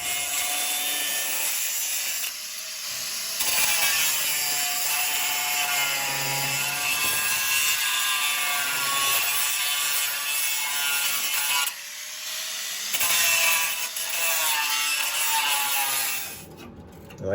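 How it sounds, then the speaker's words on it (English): On a 1969 Road Runner wheel well, leftover welds are ground off the metal flange, a loud whining, rasping grinder that runs in long continuous passes with brief pauses and pitch shifts as it bites the steel. "welds that's left here on the flange, we'll just grind it down"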